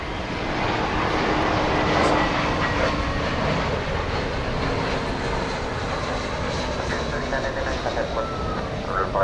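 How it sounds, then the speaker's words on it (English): An American Airlines Airbus A321 airliner arriving from San Francisco at DFW Airport at night gives a steady, broad engine roar that holds for the whole stretch, with voices talking faintly underneath. "It's an Airbus A321."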